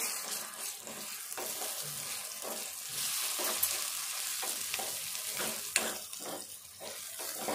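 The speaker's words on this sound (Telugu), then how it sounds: "అల్లము వెల్లుల్లి పేస్టు ఇది కూడా వేయించుకోవాలి." Ginger garlic paste frying with onions in a pan for tomato egg curry, a steady sizzle with periodic scraping stirs in a soft, even rhythm.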